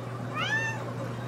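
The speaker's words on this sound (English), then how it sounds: "They are notorious for their distinctive vocal antics and don't shy away when expressing their feelings and demands for attention with loud meows." A Siamese cat gives a single rising-and-falling meow, close and clear, standing alone over a faint steady hum.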